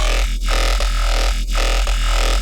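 Neuro Distortion bass patch for the Serum synth, a loud, sustained, heavily distorted growling bass with a steady drone and rhythmic pulses roughly every half second, played alone.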